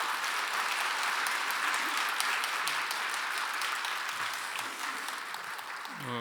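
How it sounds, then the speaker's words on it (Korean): A church congregation at a Saturday revival service breaks into warm, sustained applause welcoming the pastor, dense and steady before gradually thinning toward the end. "우리 박수로 한번 목사님 환영하도록 하죠"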